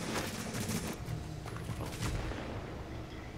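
Crossfire rings out in the video game The Division, with rapid overlapping gunshots and dense bursts of fire. The shots are fairly faint and distant and crowd together without pause, with no speech in the clip.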